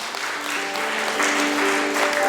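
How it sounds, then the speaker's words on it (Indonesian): A church congregation at a New Year's Eve praise and worship service applauds steadily and fairly loudly for about two seconds, with faint sustained musical tones underneath. "Tepuk tangan untuk Tuhan yuk."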